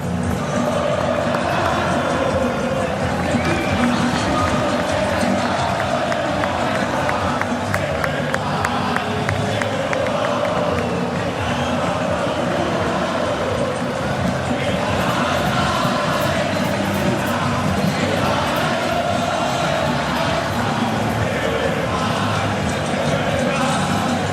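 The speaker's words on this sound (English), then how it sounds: "Have a little watch and a listen to this crowd responding to that Argentina team on the pitch." A large football stadium crowd roars for Argentina's team on the pitch, a dense, loud, continuous wall of chanting, cheering and clapping that pulses rhythmically for the whole stretch, with a voice speaking over it at times.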